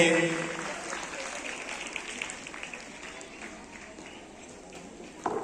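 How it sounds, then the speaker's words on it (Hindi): Faint, distant audience applause for the chief guest at a school's annual sports day, a loose patter of claps that thins out and fades, with a few voices in the background. "एक बार जोरदार तालियां हमारे रिस्पेक्टेड चीफ गेस्ट के लिए"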